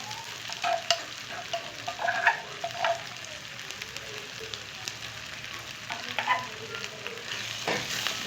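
Tomato and ground coriander chutney cooks in a pan with a soft, steady sizzle. Intermittent stirring scrapes and light utensil taps sound close by.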